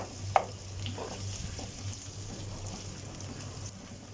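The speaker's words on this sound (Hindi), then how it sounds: "चम्मच को हम चला लेंगे और चलाते रहेंगे ताकि प्याज एक ही जगह से ना पकते रहें" Onions fry quietly in a pan while a spoon stirs them: a soft, continuous sizzle with one sharp scrape early on and faint clinks afterward.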